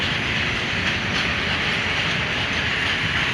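A Tabor Rail freight train passes close and loud at Poznań Dębiec, a steady roar of wagons with rhythmic clickety-clack and hiss throughout, no talk.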